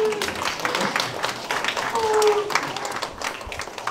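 An audience at a school graduation-ribbon ceremony claps in a moderate, steady round of applause with voices mixed in.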